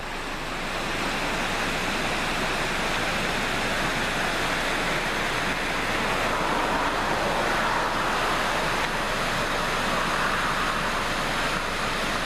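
A creek running full after spring rains in rural South Dakota or Wyoming gives a steady, broad rushing of water, constant and fairly loud with no voices over it.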